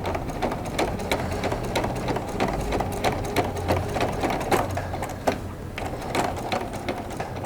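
A sewing machine runs steadily while stitching patchwork fabric for a Dresden-style half-moon placemat, its needle clattering in a fast, continuous mechanical rhythm with small ticking accents, close and unbroken throughout with no voices.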